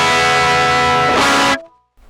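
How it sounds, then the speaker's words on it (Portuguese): A Mini 50 guitar tube amplifier played without a speaker cabinet blares a harsh, buzzy distorted tone for about a second and a half, then cuts off abruptly into near silence. "esse aqui é o som puro do amplificador sem alto-falante"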